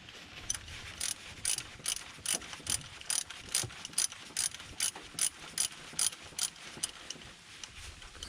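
A ratchet loosening alternator bolts on a Ford F-350 Super Duty with a 6.8L Triton V10, rapid rhythmic clicking in regular bursts, close and clear, no speech.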